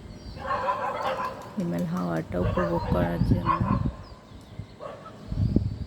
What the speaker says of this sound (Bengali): কুকুর ডাকছে।